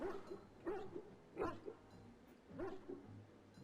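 A dog in Dragon Age Origins barks in short, repeated yips, four or five bursts spaced about a second apart, fairly close against quiet background.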